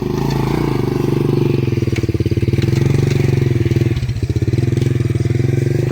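A motorcycle engine runs loud and close as the bike rides along a road, with a steady throbbing rumble and slight dips in pace, heard alone without talk.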